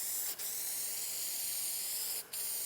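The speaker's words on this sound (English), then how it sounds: "make sure you get a good coat of the spray adhesive on" Spray adhesive hisses steadily onto a car headliner in one continuous close, loud spray, broken by two very brief pauses.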